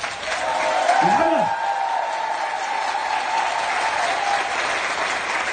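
Audience at a live show applauding steadily, with dense clapping and some cheering throughout, and a brief spoken word near the start.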